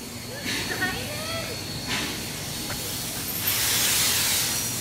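Steam hisses in bursts from a nearby locomotive, building to a loud sustained hiss near the end, with faint voices underneath.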